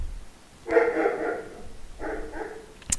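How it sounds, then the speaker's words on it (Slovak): Dogs barking in the background outdoors, two short bursts of a few yapping barks separated by a pause, moderately loud and alone with no speech. "asi bude teraz počuť pozadí psov, jak štekajú"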